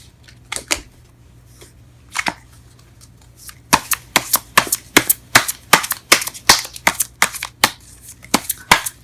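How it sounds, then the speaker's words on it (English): Tarot cards being shuffled and drawn for a reading, sounding as close, crisp slapping and flicking that start sparse and turn into a rapid, steady run of sharp card snaps, with no voices. "let's go ahead and pull some cards in regards to your reading"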